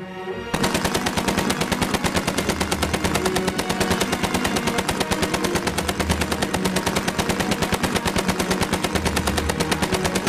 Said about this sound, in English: now going to fire a final salute